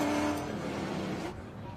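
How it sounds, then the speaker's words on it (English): TA2 American muscle race cars at Sebring rumble past in a loud, brief burst of engine noise that cuts off abruptly, leaving quieter ambient sound. "the pace car will pull out of proceedings and leave these American muscle cars to do what they've been doing since 1966"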